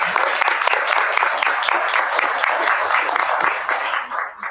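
An audience at a city council meeting applauds a climate cohort, with loud, sustained clapping from many hands that fades near the end.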